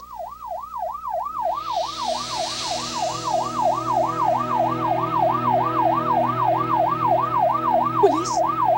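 A police siren wails loud and close, its pitch sweeping up and down in a fast, steady cycle for the whole stretch over a low engine rumble, with a brief clatter near the end.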